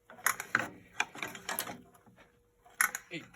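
Slow, uneven mechanical ratcheting and clicking as a stiff snowblower engine is turned over by hand, a handful of rough pulls close by, with no talking.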